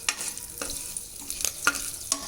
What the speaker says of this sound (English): So your cumin seeds are sizzling.